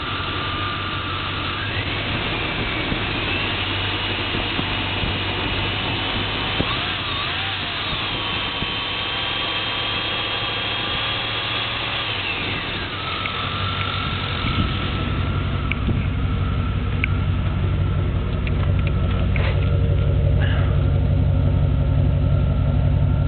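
An idling car engine with a 2-barrel throttle body drones continuously in about 30-degree weather, its low rumble shifting slightly in pitch partway through, growing a bit louder and rougher toward the end.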